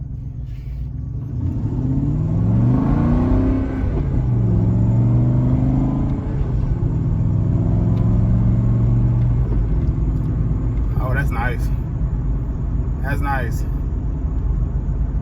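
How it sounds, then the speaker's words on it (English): Aston Martin sports car accelerating on a track, a loud steady engine rumble with rising gear pulls heard from inside, while someone talks over it. "We're gonna put the Aston Martin on the track. Let's go, let's see what it got."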